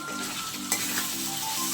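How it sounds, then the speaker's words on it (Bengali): Steady, close sizzling of chicken frying in a pan, with a brief scrape of stirring partway through. "আমি একটু ভাজা ভাজা করবো"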